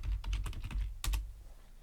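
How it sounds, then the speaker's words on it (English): A short run of keystrokes on a computer keyboard, quick soft taps with one sharper key press near the end, close but quiet. "I'm going to type in corkboard."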